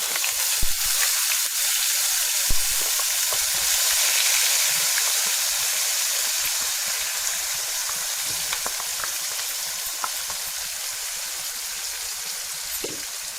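Onion-tomato paste and masala frying in hot oil for chole masala curry, a steady close sizzle with faint crackles and occasional stirring, no talk.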